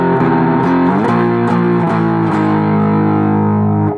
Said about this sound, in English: Put those 2 measures together and you have the full riff for the bridge section.